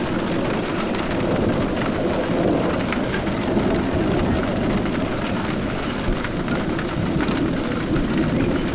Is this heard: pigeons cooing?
no